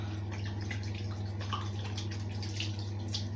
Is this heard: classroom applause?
no